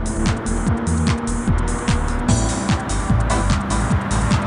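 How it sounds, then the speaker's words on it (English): A Toyota GR86 boxer engine runs steadily at close range, its revs sweeping up and falling again in repeated cycles over a constant low drone, with no voices over it. "That's a boxer engine."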